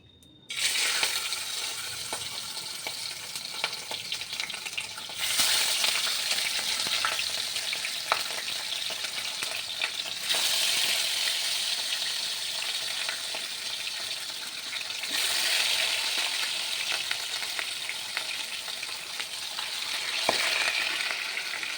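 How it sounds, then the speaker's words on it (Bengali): Fish pieces frying in hot oil in a wok, a loud, steady, close hiss of bubbling oil that runs unbroken throughout with slight surges in intensity and no voices. "দেখো এখন আমার তেলটা গরম হয়ে গেছে, এবার আমি মাছগুলো আস্তে আস্তে ছেড়ে দেবো।"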